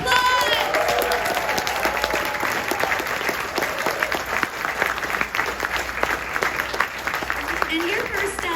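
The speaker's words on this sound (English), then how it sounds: "Let's give him a round of applause!" Convention crowd at a Blair Witch Project panel at Spooky Empire applauds a guest filmmaker with loud, sustained clapping and some cheering, with voices mixed in across the whole stretch.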